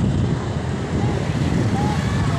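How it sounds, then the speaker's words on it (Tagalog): Steady, broadband wind rushing outdoors on a bridge, constant and fairly loud, with a low rumble throughout and no clear voices. "Sarap ng hangin dito guys."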